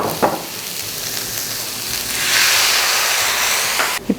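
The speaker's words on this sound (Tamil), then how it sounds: "இந்த ஒரு பவுல் அளவு தண்ணி ஊற்றிக்கலாம்." Water poured into a hot pan of roughly chopped cabbage, a steady loud sizzle and hiss that swells midway and breaks off near the end with a couple of clanks.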